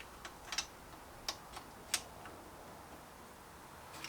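A torque wrench clicks while tightening bolts on a Nissan R32 RB25DE turbo engine during prep, giving a few sharp, faint ticks spaced irregularly over a quiet background.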